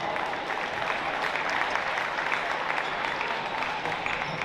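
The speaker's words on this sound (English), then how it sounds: "Let's give them a round of applause." Crowd in a high school gym applauding the officials before a varsity girls basketball game, steady sustained clapping at a moderate distance.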